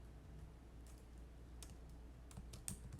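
Someone types on a computer keyboard, a few quiet, sparse key clicks over a low background hum, with small clusters of taps near the end.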